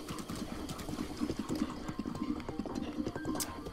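A horse gallops in the video game Zelda Breath of the Wild, its hooves beating in a quick, steady clip-clop rhythm at moderate loudness with game ambience around it.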